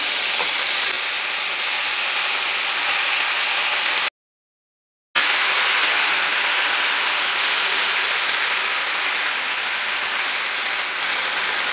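Spinach being sautéed in a pan gives off a steady, loud hiss and sizzle, close up and without talk, cut by a second of silence partway through.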